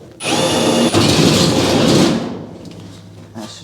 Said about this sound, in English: Can't even get through sheet metal. Let me find a sharper bit.